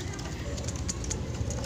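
A wild-caught, stressed zebra dove (perkutut) coos softly and steadily at close range, half buried under a person talking nearby.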